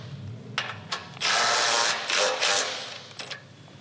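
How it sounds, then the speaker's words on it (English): A ratchet tightens the bash plate bolts on a Toyota Prado 150, giving several close, loud bursts of rapid clicking separated by short pauses. "So we can go ahead and we can actually tighten this thing up."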